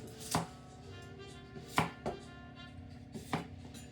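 A knife slices through food on a board in three distinct, crisp cuts spaced about a second and a half apart, close and fairly quiet.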